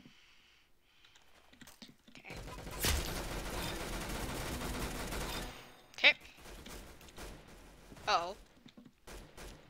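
Sustained gunfire in the shooter game Epic Arsenal rattles in a dense burst of rapid shots, followed by a few sharper isolated shots, with brief speech from players.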